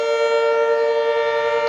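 Civil defense warning sirens wail in a steady, sustained tone during a severe thunderstorm warning, loud and continuous across the short stretch with no voices.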